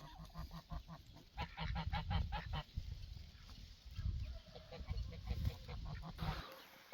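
Several geese honk repeatedly at close range on a farm, loud nasal calls in quick bursts, with quieter honks in between and no talking.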